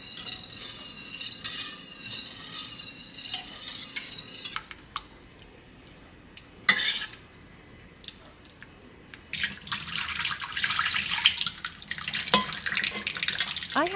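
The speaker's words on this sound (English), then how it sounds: "use 1 cup of mini tapioca pearls and add it to 8 cups of boiling water" Mini tapioca pearls are poured into a pot of boiling water, with a soft hiss of bubbling, clinks of a utensil against the pot, and a louder rush of water near the end.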